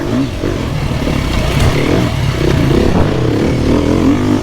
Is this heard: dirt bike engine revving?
yes